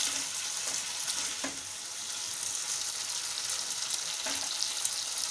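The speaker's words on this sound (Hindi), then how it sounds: "अब इसमें मैं ये 1 मिनट तक आप फ्राई करिए ताकि थोड़ी सी सॉफ्ट हो जाए" Broccoli frying in a pan over low gas for a Broccoli Manchurian, a steady soft sizzle with a few faint scrapes of stirring, close and continuous.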